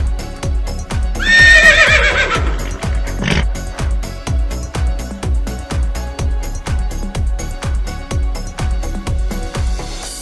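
A battery-operated toy horse gives a loud, shrill electronic neigh near the start. Its motor drives a steady, evenly spaced mechanical clip-clop that continues close and loud throughout.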